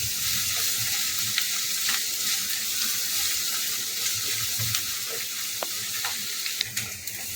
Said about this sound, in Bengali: পেঁয়াজটাকে হালকা করে ভেজে নেওয়া হয়ে গেছে